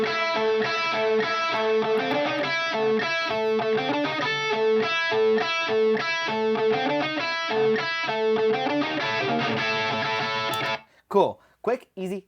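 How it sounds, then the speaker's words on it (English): A distorted lead electric guitar riff plays in a Pro Tools session, loud and steady with repeating picked phrases for about ten seconds, then cuts off and someone briefly speaks. "The lead guitar sounds like this."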